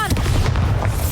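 The Bombarda explosion spell goes off in Hogwarts Legacy, one short loud booming burst with a deep rumbling body and brief crackle, close and filling the moment.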